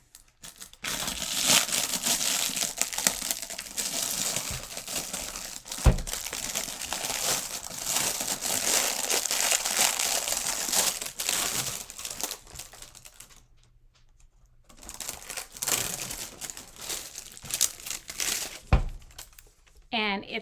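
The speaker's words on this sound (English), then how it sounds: "But this is butcher paper." Thick butcher paper crinkles and rustles steadily as it is unrolled for a chalk craft project, with a brief pause before the crackling resumes.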